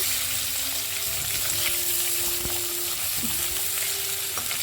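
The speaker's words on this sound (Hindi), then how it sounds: "और अभी हम इसे हाई फ्लेम पे चलाते हुए थोड़ी देर भूनेंगे" Tawa potatoes fry on a high flame in a steady, loud sizzle, with occasional soft scrapes and clicks from stirring cutting through the continuous hiss.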